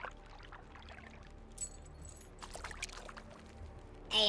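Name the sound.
splashing in water in video game The Long Dark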